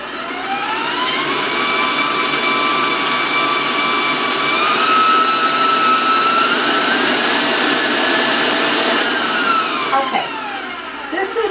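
Electric mixer beating half a cup of oil with eggs for a sugar-free spice cake batter, a steady loud whirring hum that holds for several seconds with a slight shift in pitch partway through.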